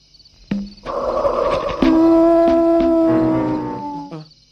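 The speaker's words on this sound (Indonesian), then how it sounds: "Sudah jelas itu suara serigala." Howling from a film scene, taken by those nearby to be a wolf: a sustained wavering tonal howl with shifting pitch that rises and holds, fairly loud and close, lasting several seconds.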